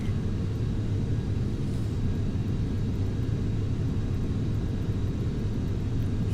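An airliner lifts off from Atlanta in a flight simulator game, a steady low engine rumble and roar at constant loudness, with no voices.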